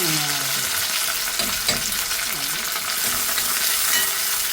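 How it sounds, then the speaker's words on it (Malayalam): Small shallots fry in hot oil for a mutton liver gravy, giving a steady, dense sizzle throughout, with faint scraping of stirring underneath. "ഓയിൽ ഒഴിച്ച് കൊടുത്തിട്ടുണ്ട്. ചെറിയ ഉള്ളി ഇട്ട് കൊടുക്കാം."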